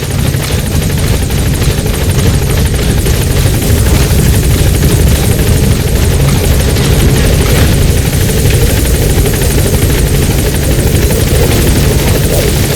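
Support helicopter arriving in the video game Metal Gear Solid V, a loud, steady rotor thrum with heavy low-end chop that holds at close range throughout, no voices.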